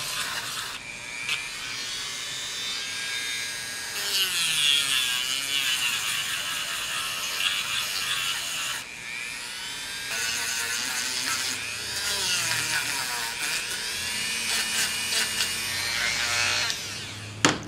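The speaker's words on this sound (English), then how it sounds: "Dremel tool with a little, with a sandpaper bar on there" A Dremel rotary tool fitted with a sandpaper bar sands the rough edges of a homemade gun holster, a continuous high-pitched whine that rises and falls in bursts as it bears on the material, close and fairly loud with no talk.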